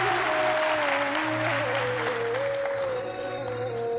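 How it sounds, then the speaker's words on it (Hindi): Steady applause from a live seminar audience at a Hindi motivational talk, dense and continuous clapping throughout with a tonal hum running beneath it. "थोड़ा रियल ताली बजा।"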